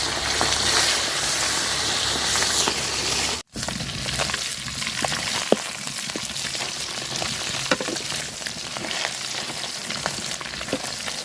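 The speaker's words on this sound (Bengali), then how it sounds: "মাছে তেল দিয়ে দিলাম মাছ ভাজার জন্য" Bata fish fry in oil in a pan, giving a loud, steady, close sizzle that runs almost unbroken, with one brief dropout near the start.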